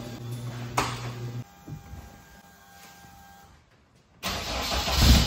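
A BMW 2002 with its small M10 four-cylinder engine on Alpina-style management runs nearby, rising in a sharp rev at the start, settling into a lower steady note, then growling louder again toward the end.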